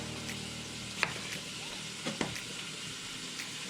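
Onions frying in a hot pan give a steady, soft sizzle throughout, with a few light clicks and stirring taps over the crackle.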